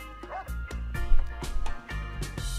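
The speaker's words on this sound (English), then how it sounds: "Oh, do I have a dog?" A dog in RimWorld lets out a quick series of short barks and yips, close and fairly loud, over a busy game soundtrack with rhythmic beats.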